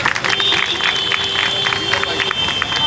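A crowd claps at a contract workers' wage protest rally outside a municipal corporation, brief sustained applause from a gathered group heard at moderate distance.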